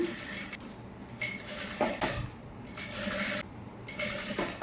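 A sewing machine stitches a child's gown lining in short bursts of rapid needle clatter, stopping and starting several times with brief pauses between runs.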